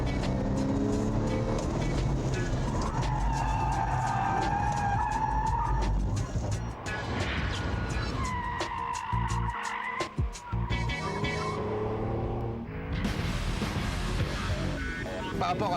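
A Porsche 911 sports car driven with its stability control switched off, its engine note rising and falling with loud tire squeal and skidding throughout, close and continuous.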